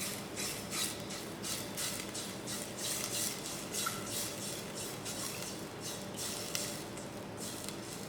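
Cream being stirred into a reduction in a pan for poached snapper, heard as a steady wet swirling with faint scraping against the metal, with no talking.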